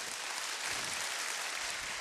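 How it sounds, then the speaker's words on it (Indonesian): Church congregation applauding during a sermon, a steady, dense wash of clapping that fills the whole clip at moderate level with no voices over it. "mari beri tepuk tangan sekali lagi buat Tuhan kita"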